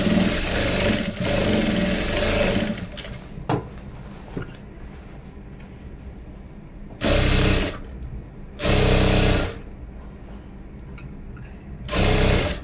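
Sewing machine stitching the seam of a dhoti, a loud mechanical whir that runs steadily, pauses, then comes back in three shorter bursts, with quiet stretches between.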